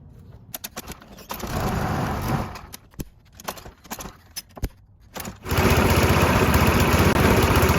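A gasoline lawn mower sputters and surges in bursts, with a string of sharp clicks and brief catches, then fires up into a loud, steady running drone up close.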